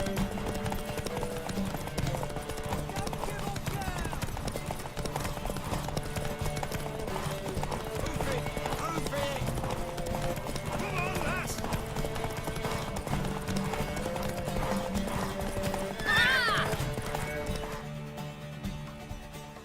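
Horse hooves clip-clop steadily with occasional neighing and whinnies from a horse in The Witcher 3: Wild Hunt, heard amid game ambience and music, with a brief spoken voice near the end.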